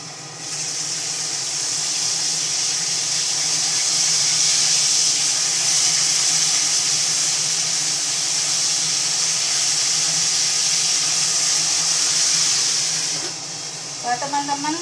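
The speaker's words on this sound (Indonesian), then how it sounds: "kalau goreng ikan itu usahakan ditutup teman ya. Selain minyaknya itu bertaburan, letek-letek teman ya" Fish frying in hot oil in a pan during home cooking, a loud, steady sizzling hiss that runs unbroken for about thirteen seconds, then gives way to a few light clatters.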